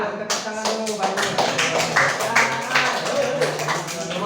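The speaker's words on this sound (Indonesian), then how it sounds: "Tepuk tangan dulu, bagus." A class of schoolchildren claps together in a classroom during a lesson, an uneven burst of many hands that starts suddenly and carries on for several seconds, with voices audible beneath the clapping.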